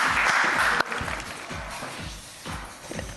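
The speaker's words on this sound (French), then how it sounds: "On applaudit très très fort Gwen" A TV talent-show audience applauds a contestant, loud clapping at first that breaks off abruptly, followed by lighter scattered sounds and a low thumping rhythm underneath.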